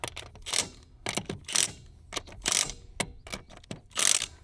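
Impact wrench tightening the wheel lug nuts on a Can-Am Defender UTV, a series of short, loud mechanical bursts repeated about six times with brief pauses between, close by and alone.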